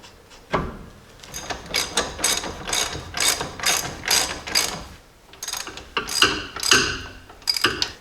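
Ratcheting on a new ball joint nut on a Jeep Dana 30/44 axle: a close, rapid run of metallic ratchet clicks in repeated bursts, pausing briefly between strokes.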